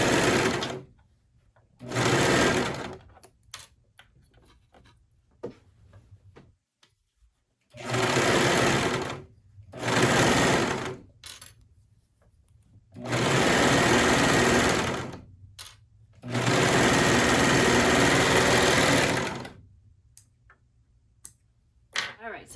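A sewing machine stitches a leggings seam in four or five loud, close bursts of rapid whirring, with quiet pauses and faint handling between runs.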